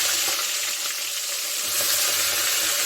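Rohu and catla fish heads fry in mustard oil, giving a loud, continuous, close crackling sizzle with light stirring.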